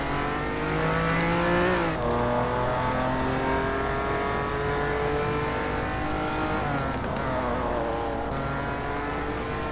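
Race car engine in a Hot Wheels video game, a loud, sustained engine whine that drops sharply under braking then climbs again as it revs back up, twice over, with no talking.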